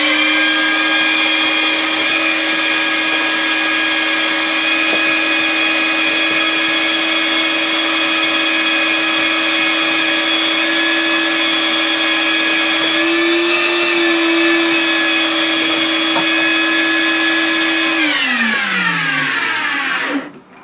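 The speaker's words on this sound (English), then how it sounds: "I'm gonna start my vacuum cleaner." A vacuum cleaner runs loud and close with a steady high motor whine and hum, holding constant until it winds down and cuts off at the end.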